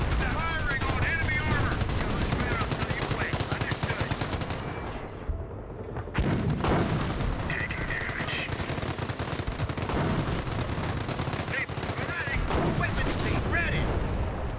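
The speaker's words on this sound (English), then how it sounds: "Firing on enemy" Rapid machine-gun bursts and dense gunfire from a Company of Heroes battle aimed at enemy armor, nearly continuous and loud, with a short lull midway before the firing resumes.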